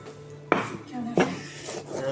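Pahadi salt is ground on a stone slab in two sharp scraping, knocking strokes, close and fairly loud, with a faint murmur of background sound between them.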